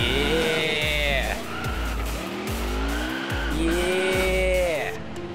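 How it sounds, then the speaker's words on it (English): A car in a sim racing game doing burnouts, engine revving in repeated surges with long tire squeals rising and falling, while people talk over it. "You doing burnouts?"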